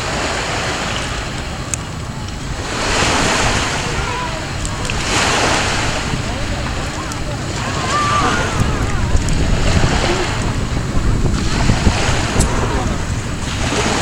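Ocean waves wash onto a beach in repeated surges over a steady roar of surf, with heavy wind buffeting the microphone throughout.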